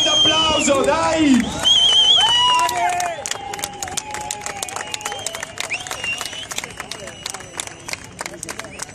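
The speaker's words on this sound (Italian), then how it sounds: "un grande applauso" Crowd at a protest in Venice by the Giudecca canal, with loud shouts and whistles at first, then a run of sharp scattered claps and cheers that carries on under a babble of voices.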